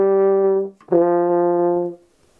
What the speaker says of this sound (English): Now I'm going to play the four notes in a row down the scale.